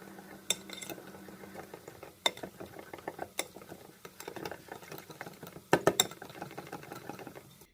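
Homemade lumpia wrapper batter of salted flour and water is stirred in a bowl. Irregular clinks and scrapes of a utensil against the bowl continue, with a few louder knocks, in a quiet kitchen with no talk.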